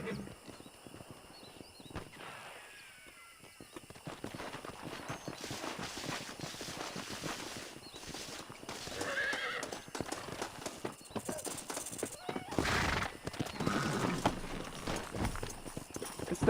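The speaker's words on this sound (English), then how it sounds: "Deixa eu ver se é o nosso cavalo mesmo." Horse in the Red Dead Redemption video game, whinnying and neighing amid steady clip-clopping hooves, with layered game ambience throughout and a louder neigh near the end.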